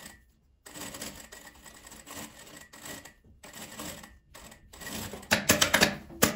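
Sewing machine stitching fabric for a small eyeglass pouch, running in short bursts of rapid mechanical clatter separated by brief pauses, close and fairly loud, growing busier toward the end.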